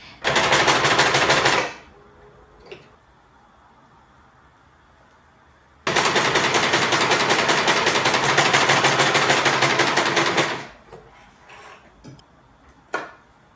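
A sewing machine stitches fabric in two long rapid runs, a fast steady mechanical rattle that stops and restarts, with faint handling clicks in the quiet gaps.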